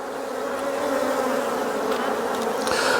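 A dense, steady buzzing of many honey bees close by, a continuous hum with no talking.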